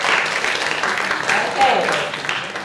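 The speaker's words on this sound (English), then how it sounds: "Round of applause" A workshop audience gives brief applause of moderate loudness, with a voice speaking over the clapping throughout.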